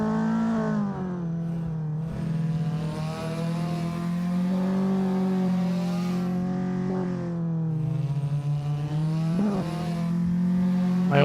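An Assetto Corsa race car engine in a touge race revs hard and close, pitch climbing and dropping through repeated gear shifts, loud and sustained with no talk.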